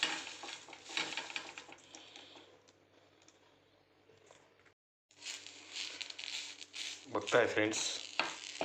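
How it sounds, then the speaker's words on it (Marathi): Curry leaves roasting in a pan for curry leaf chutney, giving a soft sizzle with scraping stir sounds that fades out, then returns louder with clattering near the end; a voice speaks briefly. "आपला कढीपत्ता छान मी त्याला भाजून घेतोय."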